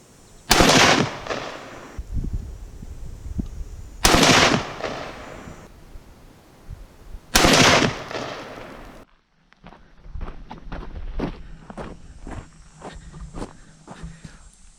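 A Savage Axis XP hunting rifle in .308 Winchester fires three loud, sharp shots outdoors, spaced a few seconds apart. Each shot is followed by a short ringing decay, and a run of quieter clicks and handling noises comes after.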